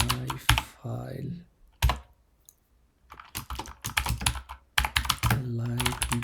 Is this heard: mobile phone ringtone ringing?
no